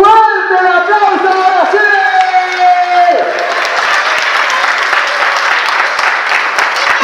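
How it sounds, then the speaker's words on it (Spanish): Applause at a child's first birthday party breaks out after a few seconds of singing voices and keeps going as dense, close clapping from a small crowd, with cheering and talk mixed in. "¡Fuerte el aplauso!"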